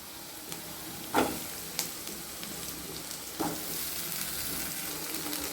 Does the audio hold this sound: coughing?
no